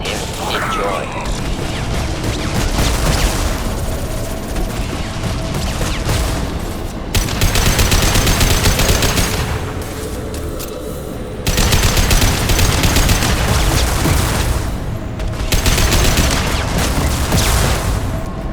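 Heavy gunfire erupts in the Mass Effect 2 sci-fi shooter, with dense, loud sustained bursts of automatic fire and mechanical clatter rolling in waves and brief lulls around the seventh and eleventh seconds.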